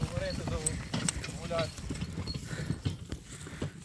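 Mare's hooves clip-clop in an uneven rhythm on a hard surface while people talk nearby at a horse sale in Nyzhnii Verbizh.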